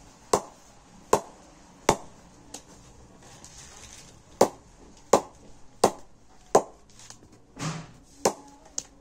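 An SG leather cricket bat knocked to test its sound, giving a series of sharp, distinct wooden taps at irregular intervals, close and clear against a quiet background.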